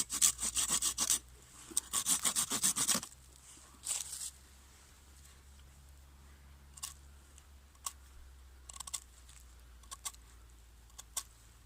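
A hand tool shaves the end of a natural wooden mallet with quick rasping strokes in two bursts, then scattered scrapes and taps follow more quietly.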